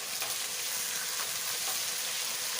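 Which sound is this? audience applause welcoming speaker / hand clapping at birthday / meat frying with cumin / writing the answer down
meat frying with cumin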